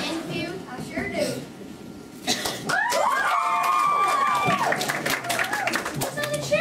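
A crowd cheers and claps with rising whoops and shouts that swell loudly after a quieter start, while voices speak beneath and between the cheering.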